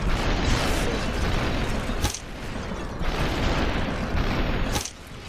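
Dense, continuous explosions and gunfire roar from the video game SuperHot, loud and chaotic with a couple of sharp blasts standing out and brief dips between volleys, with no talking.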